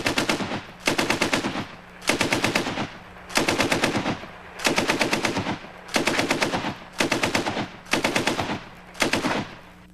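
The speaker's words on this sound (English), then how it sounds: "it was the first of the true light machine guns." A .303 British light machine gun fires repeated bursts of rapid, evenly spaced shots at roughly 450 to 500 rounds per minute, about eight loud close bursts with brief pauses between them and no talking.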